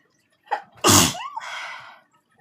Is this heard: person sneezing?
yes